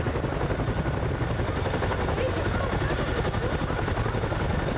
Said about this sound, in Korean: 군용 헬리콥터가 관중 앞에 인상적인 등장을